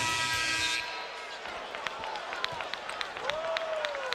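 A college basketball arena crowd roars steadily at a 2008 NCAA East Regional semifinal between North Carolina and Washington State, with sneaker squeaks and ball bounces cutting through the din.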